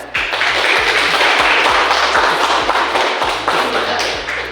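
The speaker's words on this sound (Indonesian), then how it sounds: "Tepuk tangan dulu untuk kita" A group in a teacher-training class claps for the quickest quiz winners, loud and steady, with regular low thuds running underneath and voices mixed in.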